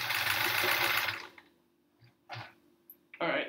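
A sewing machine stitching in a fast, steady whir for about a second, then stopping; a few faint clicks follow before another short burst of stitching starts.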